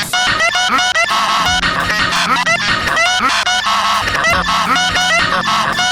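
A goose honks loudly and repeatedly at close range, harsh nasal calls coming in rapid irregular bursts for the whole stretch, with no talk.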